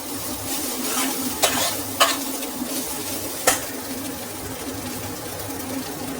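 Egg fried rice is stirred in a hot pan, sizzling steadily throughout with a few sharp clinks of the utensil against the pan, close and without talk.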